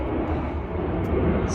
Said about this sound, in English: The planes are flying in and out today.